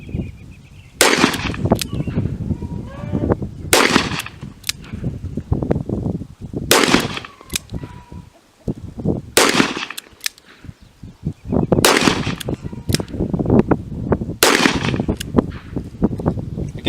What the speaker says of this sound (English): Let's do some single action shooting.